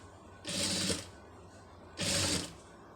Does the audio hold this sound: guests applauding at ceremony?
no